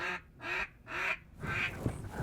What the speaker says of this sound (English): So you hear that? That's a real duck.